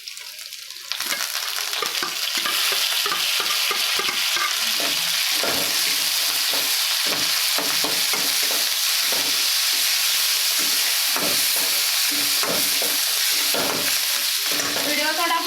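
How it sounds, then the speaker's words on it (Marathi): Sautéed onion with tomato and coriander added sizzles and hisses steadily in a pan over two-plus seconds, with repeated scraping stir strokes clattering against the pan throughout, close and loud. "आपला कांदा आता चांगला परतून झालाय. त्याच्यामध्ये हे टोमॅटो आणि कोथिंबीर टाकून देणार आहे आपण."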